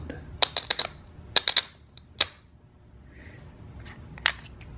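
Sunfly Prestige ceramic hybrid poker chips, 43 mm, clack sharply as they are dropped and stacked, giving quick bursts of crisp clicks in clusters followed by a few isolated taps.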